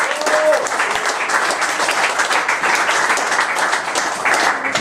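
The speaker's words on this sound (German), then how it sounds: "Marion, einen Applaus." Steady audience applause for Marion fills the whole stretch at a German comedy-style stage event, dense clapping from a live crowd, fairly loud and close, with voices faintly mixed in beneath.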